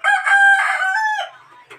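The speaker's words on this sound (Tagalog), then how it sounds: "pasensya na kayo sa mga manok dahil umaga na kasi" A rooster crows once in the early morning, a loud, close, drawn-out cock-a-doodle-doo with a sharp rising call that trails off, heard alone.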